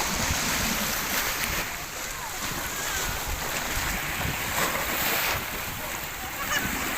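Fishing boats sit out on the open sea under a steady roar of wind and surf, with waves washing continuously and no clear engine standing out.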